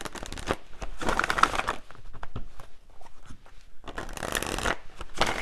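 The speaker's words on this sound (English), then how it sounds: "Let me pull one final card" Tarot cards being shuffled by hand in quick riffling bursts, close and crisp, with short pauses between rounds of shuffling.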